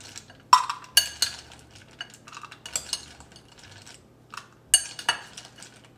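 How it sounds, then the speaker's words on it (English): Metal spoon stirring and scooping chocolate chips for pumpkin gingerbread truffles, irregular clinks and scrapes against a bowl with rattling chips, close and fairly loud. "Now I'm gonna take a spoon and kind of mix up the chocolates because I'm about to put a cup of them in a pot."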